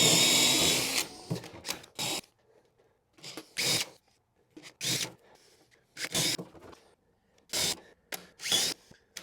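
A power drill with a brad point bit bores into wood in repeated short bursts, each whine starting and stopping with quiet pauses between, close and fairly loud, with no talking.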